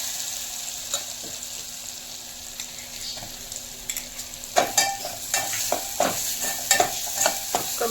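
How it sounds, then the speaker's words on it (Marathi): Cumin seeds and green chili paste fry in hot oil with a steady, close sizzle. Scraping stir strokes start out sparse, then come quick and irregular in the second half, and no one speaks. "गरम तेलामध्ये आपण जिरे टाकून घेऊ आणि हिरवी मिरचीची पेस्ट टाकून"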